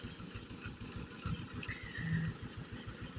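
A tractor's diesel engine chugs steadily nearby in a quick, even rhythm, with faint outdoor noise above it.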